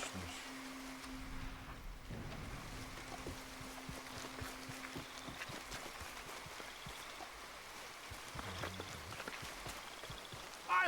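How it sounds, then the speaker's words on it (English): Steady rain in an open-world western game, a soft, even wash of falling drops that runs alone throughout with no voices. "Come on, it's raining"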